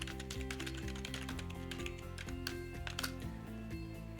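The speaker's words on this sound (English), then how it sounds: "I'm going to type the password." Fingers typing on a computer keyboard, a quick irregular run of crisp close key clicks lasting several seconds with no talking.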